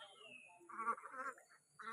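Runner ducks and ducklings on a free-range farm give a few short nasal quacks, close by and fairly faint, with brief pauses between calls.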